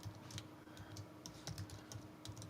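Steady bursts of typing on a computer keyboard in a slot car factory studio, close and continuous with uneven clicky rhythm, no voices.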